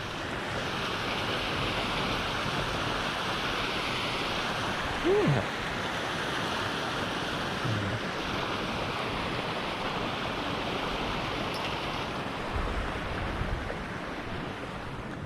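Steady water rushes and flows at a riverside fishing spot, a broad, continuous wash that fills the whole clip with some wind buffeting the microphone and no clear talk.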